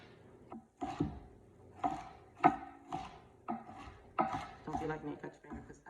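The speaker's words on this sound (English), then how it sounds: "So let's chop some of this up." A knife chops through cabbage on a cutting board, about a dozen crisp uneven thunks in an irregular rhythm, close by, with faint clinks of kitchenware and a little quiet background talk.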